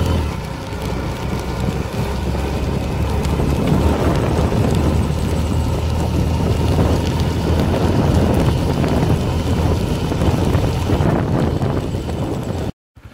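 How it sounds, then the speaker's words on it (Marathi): Heavy rain during a road trip on a vehicle running without a working accelerator, a loud continuous roar of rain, wind and engine with a low rumble throughout, cutting off briefly near the end. "पाऊस भरपूर आहे."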